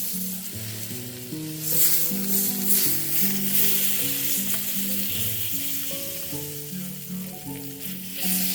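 Butter sizzles steadily in a hot skillet on a stovetop, a continuous hiss and crackle that stays fairly loud throughout, with a melodic background tune running beneath it.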